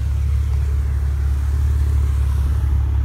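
A Maserati Ghibli S Q4's dual quad exhaust gives a deep, steady throbbing rumble, close and continuous, with a faint hiss of background noise.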